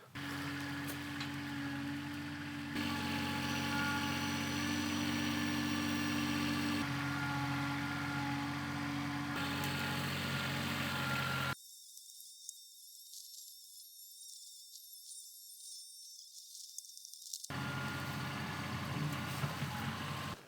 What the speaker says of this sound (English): So let's start with the tractor.